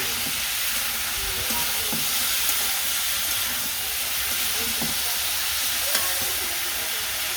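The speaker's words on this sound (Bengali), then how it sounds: "সেই পাশে আমরা ভাজতে থাকি" Food frying in a home kitchen pan, a steady broadband sizzle and hiss running continuously, with faint scattered clinks and pops beneath.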